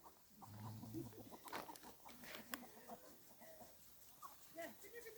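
Chickens cluck and murmur softly in the background at a village house in Yakakent, Samsun, with scattered short calls, while a person talks quietly nearby.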